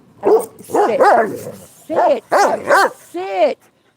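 A dog barks several times in quick bursts nearby, ending with a higher whiny yelp.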